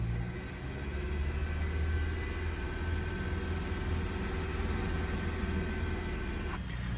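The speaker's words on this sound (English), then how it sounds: "So I'm revving the engine right now." A Kia Sportage engine, just fitted with a new crankshaft position sensor, runs with a steady, even rumble and hum at close range, holding a constant level with no voices.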